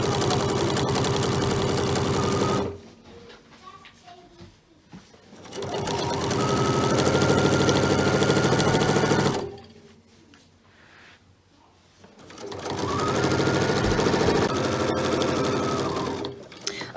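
A sewing machine stitches binding onto a quilt in two long steady runs, each several seconds, separated by a quiet pause; the motor whirs loud and close, rising and settling at each start and stop.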